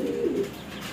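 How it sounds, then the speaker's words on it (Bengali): Pigeons coo close by, a single low, soft throaty call that rolls briefly and fades within a second, with no voices over it. "সাতচিল্লা কবুতর।"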